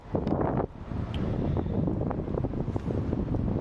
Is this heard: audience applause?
no